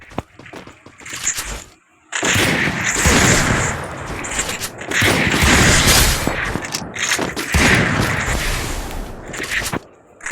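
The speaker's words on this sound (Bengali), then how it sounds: "ডেজার্ট ইগল দিয়ে আমি খেলতে পারি না ভাই" Rapid Desert Eagle pistol shots fired in a video game, loud dense bursts of gunfire broken by a brief pause near the two-second mark, with no talking.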